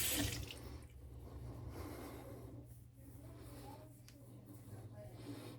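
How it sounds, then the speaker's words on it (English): Water runs from a tap into a sink as a shaving brush is rinsed under it, a steady hiss with faint rubbing, close and fairly quiet, with a low hum beneath. "And then I'll wash out my brush while this does its job."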